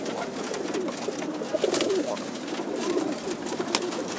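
Tippler pigeons coo in soft, rolling murmurs close by, several birds overlapping in a steady low chorus over faint background noise, with no talk.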